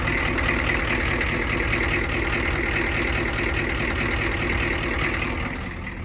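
A 1985 Ford F250 with a 6.9 IDI diesel engine idles in drive, giving a steady, close, continuous rumble that fades slightly at the end.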